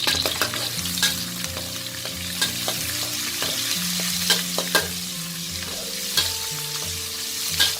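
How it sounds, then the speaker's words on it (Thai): Dried shrimp frying in hot oil over high heat, a loud close sizzle with bursts of crackling and spatter, plus stirring clatter and a low background tone, no speech. "เอากุ้งแห้งเราลงไปทอดเลยค่ะ"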